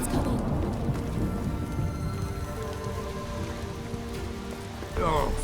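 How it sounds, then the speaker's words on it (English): Steady drizzle patters through an outdoor scene in the video game The Witcher 3, a soft continuous hiss of rain with a brief louder swell near the end and faint voices now and then beneath it. "Oh, it's drizzling."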